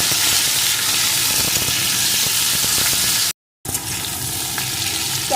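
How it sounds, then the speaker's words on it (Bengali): Chopped tomato frying in a pan with a hilsa (ilish) fish head, giving a steady close sizzle with light stirring scrapes and a brief silent break partway through. "একটু ভেজে এর ভিতরে আমি টমেটো কুচিটা দিয়ে দেব আবারও কিছুক্ষণ ভেজে নেবো"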